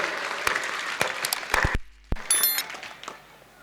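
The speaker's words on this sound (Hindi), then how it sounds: "बहुत बढ़िया ताली बजा दिया करो यार। बजा दो भाई।" Scattered claps and sharp hand strikes from an audience at a Hindi poetry recital (kavi sammelan), bursting in uneven spurts, briefly dropping out, then returning as a denser patter.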